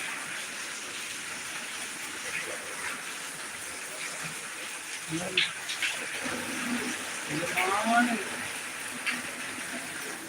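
Continuous heavy rain falling outdoors, a steady hiss of water with occasional splashes, while a person talks over it.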